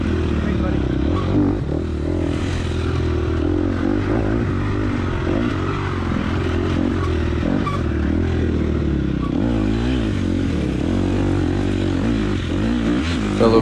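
A KTM dirt bike engine drones and revs continuously during a high school AA class motocross race at the 2020 NCHSA Brown Jug, loud and close, with a voice talking over the engine.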